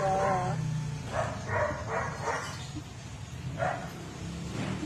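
Dog barking, several short barks at a moderate distance, with some people speaking around them.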